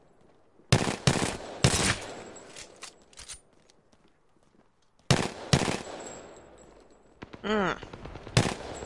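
Gunfire in the Apex Legends video game comes as sharp automatic bursts in two loud clusters split by a quiet pause, with a ringing, whining shot near the end and a brief murmur.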